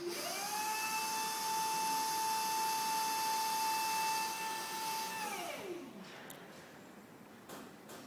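A forklift's hydraulic pump whines in a steady high tone for about five seconds, then winds down and fades, leaving quiet background noise.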